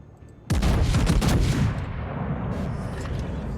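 Naval gunfire in the warship combat game World of Warships: a loud, sudden salvo of heavy cannon blasts, then a rumbling tail of booming echoes and ambient battle noise, with no talking.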